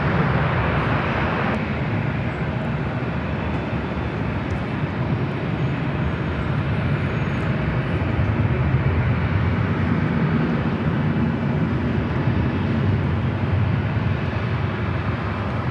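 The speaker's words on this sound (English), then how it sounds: "This takeoff is Southwest Airlines 3595, taking off to San Jose on the MAX 8." A Southwest Airlines Boeing 737 MAX 8 takes off from Los Angeles airport, bound for San Jose, with a steady, loud jet roar that holds unbroken for about sixteen seconds, heard from some distance with no voices.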